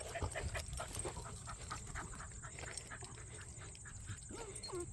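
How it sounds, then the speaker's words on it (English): Dogs pant rapidly and steadily close by, with short whimpers and a few faint yips mixed in, and a voice speaks quietly in the background. "My dogs are very friendly."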